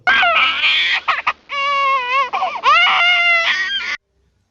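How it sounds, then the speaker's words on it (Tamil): A shrill, wavering cry rises and falls in several drawn-out bursts with brief breaks, loud and close, like a distressed baby wailing. "ஒரு குழந்தை கத்துது."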